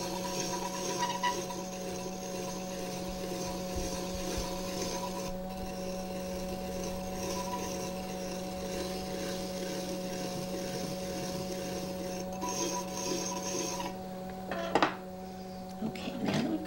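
A clay pot is trimmed on a spinning pottery wheel, a steady motor hum with constant scraping and rubbing of the tool against the clay, and a brief louder knock near the end.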